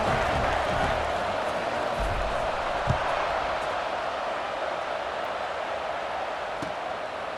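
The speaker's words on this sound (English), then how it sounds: "this crowd is buzzing after that last score" Stadium crowd in College Football 26 buzzing after a score, a steady loud roar that stays even throughout with no distinct cheers rising out of it.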